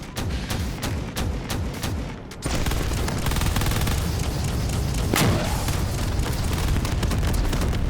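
Long-range missiles firing in Space Engineers, a rapid rhythmic thumping volley for the first two seconds, then a sustained loud roar of launches and booms with a sharp blast near five seconds, no talk.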